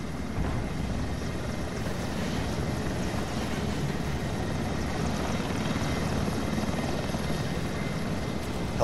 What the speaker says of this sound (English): Helicopters? When do they bring freaking helicopters in a World of Tanks?